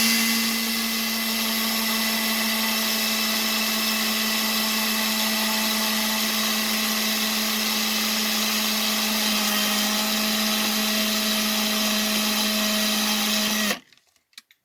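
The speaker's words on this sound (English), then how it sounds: "You want to push the fruit into the drill bit, slowly but firmly, so it actually, makes the hole." A stationary drill whirs steadily as a potato is pushed onto the bit to bore a hole, a sustained, even motor whine with a faint grinding texture, close by, until it abruptly cuts off near the end.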